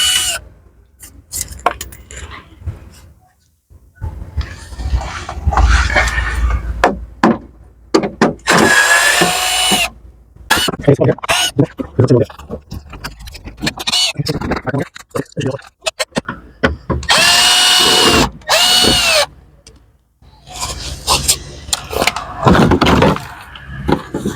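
Power tool undoing 7mm bolts on a cover of a BMW X5 during air suspension work, heard up close in repeated short whirring bursts separated by brief pauses.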